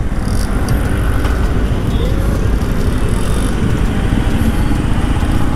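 A Yamaha MT15 BS6 motorcycle pulls smoothly from low speed in second gear, its engine a steady, loud, continuous drone with no knocking, heard up close without any talk.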